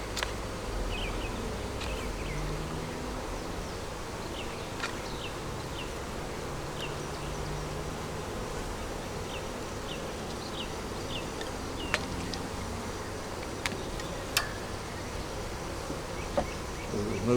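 Honey bees swarm around an opened double deep hive with a honey super, making a faint, steady, continuous buzz with scattered brief higher whines of individual bees flying past. No one speaks.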